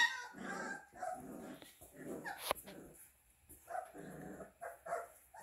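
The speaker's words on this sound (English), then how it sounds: "They're starting to bark, they're starting to growl and play with each other" Month-old Newfoundland puppies yipping, whimpering and barking close by in a string of short, high bursts as they play together, separated by brief quiet gaps.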